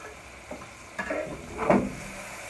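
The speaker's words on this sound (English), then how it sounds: "we're going to take some of these onions, and we're going to saute it into our seasoned skillet" Onions sautéing in a seasoned skillet give a close, gentle sizzle with a couple of stirring scrapes and bumps in a short burst.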